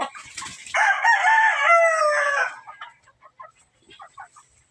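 A Golden Monkey gamefowl rooster gives one loud, close crow lasting about two seconds, followed by soft clucks and faint bird calls.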